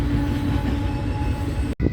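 A Union Pacific freight train rolls past in Fremont, Nebraska, a loud, continuous rumble of wheels and cars close by, with a sudden brief break near the end and no voices.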